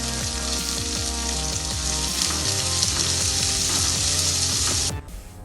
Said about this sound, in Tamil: இதை நல்லா பச்சை வாசனை போகிற அளவுக்கு வதக்கிக்குவோம்